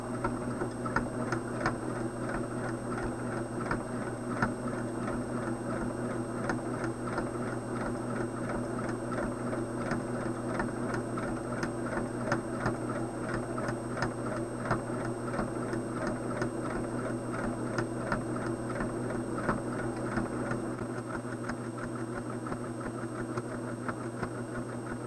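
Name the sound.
sewing machine stitching around an applique quilt block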